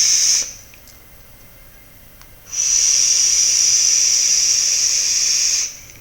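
A 1.3 ohm twisted clapton coil in a Serpent Mini RTA fires at 50 watts, giving a loud, steady close-up hiss. One short burst comes first, then a quieter gap, then a long sustained hiss that cuts off abruptly.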